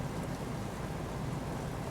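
Steady broadband rain hisses continuously and evenly in Microsoft Flight Simulator, heard around a PMDG 737 on a murky approach into Vienna, with no voices over it.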